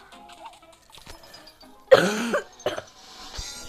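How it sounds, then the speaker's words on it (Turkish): A person who is sick gives a single harsh cough near the middle, with quiet background noise before it and a few smaller sounds after. "Öksürebilirim o yüzden."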